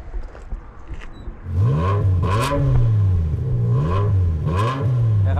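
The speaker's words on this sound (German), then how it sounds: "Mach mal bitte an." A BMW engine fitted with a non-stock aftermarket exhaust starts and then revs hard several times in a row, rising and falling loudly and close by, with no talking.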